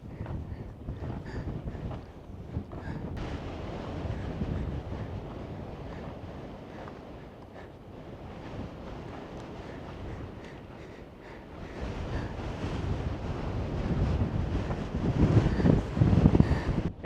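Strong gusting wind roars across a high mountain pass in Ladakh, buffeting the microphone with a continuous low rumble that swells louder toward the end, with no talking.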